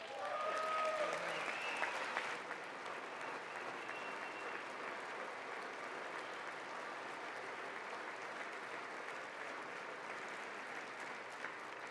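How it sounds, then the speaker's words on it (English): Applause fills the House chamber during the 2026 State of the Union address. It rises loud in the first seconds, then settles into a steady, sustained clapping wash from a large crowd with no speech over it. "I wasn't sure if anybody even on this side was going to applaud for that."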